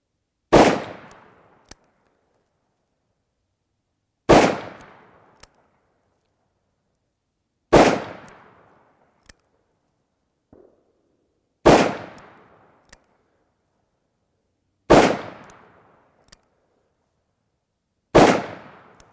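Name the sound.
revolver gunshots at target shooting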